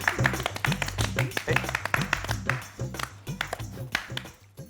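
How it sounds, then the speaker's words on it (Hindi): Hands clap in a quick, rhythmic burst of sharp, close claps during a comedy show scene, with a voice speaking over them throughout. "अरे ताली बजाओ।"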